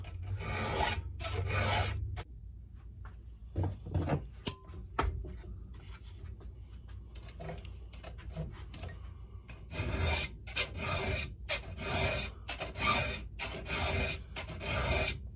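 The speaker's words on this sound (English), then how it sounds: "when you first file a brand new chain, it gets grabby and it's hard to get started" Hand file sharpening a brand new chainsaw chain, a series of rhythmic metallic rasping strokes, close and fairly quiet, with a brief lull in the middle before a quicker run of strokes.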